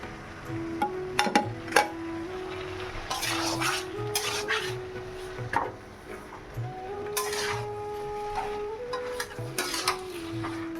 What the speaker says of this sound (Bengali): আর আলুটা আমি ভাজছি